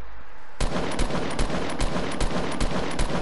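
Rapid automatic gunfire from the Fortnite video game breaks out suddenly and keeps hammering in a loud, steady stream of close shots.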